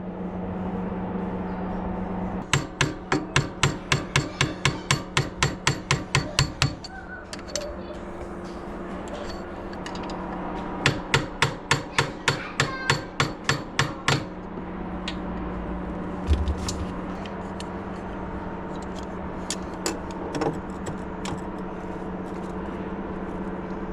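Rapid metallic hammering on a motorcycle shock absorber during work on an SMX250, coming in two fast bursts of about a dozen blows each, followed by a few scattered knocks over a steady background hum.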